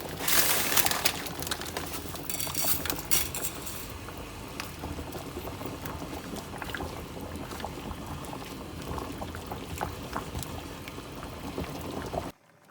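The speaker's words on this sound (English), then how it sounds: "The water's boiling now, and then we can add our noodles." Water bubbles and churns at a steady rolling boil in a pot, a continuous close seething sound with no voices.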